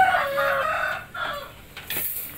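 An Indio Gigante chicken at a poultry farm crows and clucks, a strained drawn-out call followed by shorter clucks, close by with no talk.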